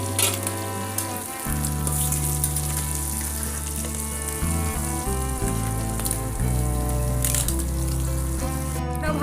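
Sea crab fries in oil in a pan, giving a steady, close crackling sizzle that runs throughout, partly masked by loud background music.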